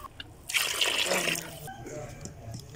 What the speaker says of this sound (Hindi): चार गिलास असी पानी दे पाते ने,